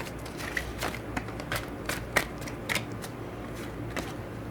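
Tarot cards being shuffled during a reading, giving a string of soft papery riffles and flicks at an uneven rhythm, close and moderately quiet.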